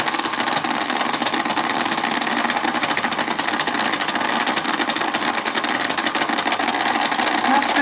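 Battery-powered toy mini washing machine running with water inside, a steady whirring, rattling motor drone held at even loudness throughout, nearby and alone.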